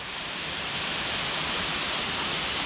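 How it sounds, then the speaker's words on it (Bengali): Steady, dense rush of a waterfall in a forested setting at Yogighat, Kalimpong, a loud continuous roar with no breaks and no voices over it. "খুব সুন্দর পরিবেশে ঝর্ণাটা রয়েছে"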